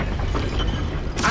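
Spell explosions in the video game Hogwarts Legacy: a series of booming magical blasts with rumbling low end, ending in a sharp bright burst, loud and close.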